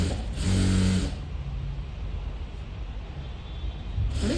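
A domestic sewing machine running steadily while stitching a blouse seam, giving a close, even mechanical whir with a slightly louder start and a brief pause near the end.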